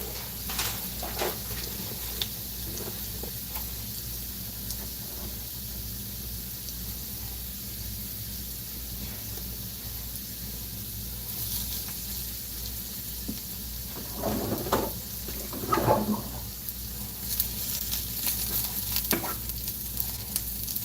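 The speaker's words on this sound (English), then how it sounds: "I'm just mixing the onion in because the onion's pretty much done cooking" Onions and corn tortilla frying in a pan, a steady sizzle that runs throughout, with occasional louder scraping bursts as they are stirred.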